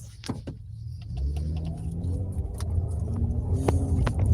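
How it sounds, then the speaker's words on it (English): A car rolls by on a street, its engine rumble rising gradually from quiet to a steady drone, with a few sharp clicks and knocks near the start. "here go another car"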